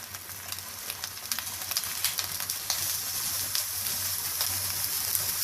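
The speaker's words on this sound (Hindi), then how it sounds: "आप देखिए बैंगन कितने अच्छे से फ्राई हो रहे हैं।" Eggplant slices fry in a pan over high heat, giving a steady close sizzle and bubbling crackle with occasional sharper pops and no talking.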